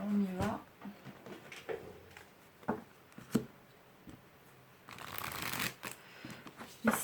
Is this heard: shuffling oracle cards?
yes